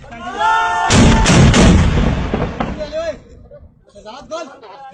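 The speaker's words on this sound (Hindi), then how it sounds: "Motor fire." A Pakistani army mortar fires a heavy, booming shot with a long rumbling tail, loud and close, followed by shouted voices and further distant thuds.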